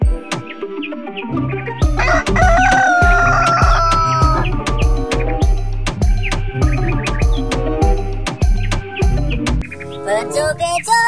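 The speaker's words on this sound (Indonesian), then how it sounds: "Widih-widih, ternyata ada ayam jago." A rooster crows and clucks over a loud, rhythmic cartoon-style music track with steady beats, the bird calls sitting prominently among the music.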